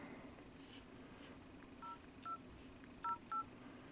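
Keypad tones from a Sony Xperia S phone dialer, four short, faint electronic beeps at uneven intervals over a quiet background hum.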